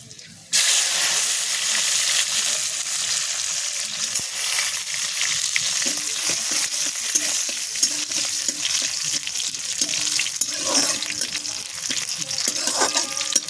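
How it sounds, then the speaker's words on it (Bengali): Garlic frying in hot oil with black cumin seeds and dried red chilli, a loud steady sizzle that starts abruptly and runs throughout, with light stirring clinks and a soft voice briefly in the background. "এটা ভালো করে ভেজে নেবো।"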